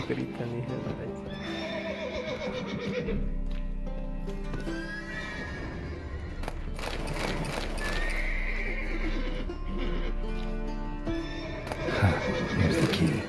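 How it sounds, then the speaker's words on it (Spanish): Agitated horses in a stable in The Witcher 3 whinny loudly again and again, with clip-clopping hooves and a low background drone, and voices speak between the neighs. "Gotta calm all the horses before they wake the guards."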